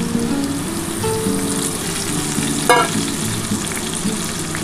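Spice water goes into a frying katla fish curry, and the steady sizzle of the pan is broken by a brief pouring splash near the middle. The sound is close and fairly loud, with no voices.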